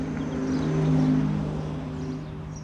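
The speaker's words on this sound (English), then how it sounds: "disable the wobbling driving sound in the Renault Zoe" A Renault Zoe electric car sounds its artificial driving tone, a steady wobbling synthetic hum that swells slightly and then eases off, moderately loud with no talking over it.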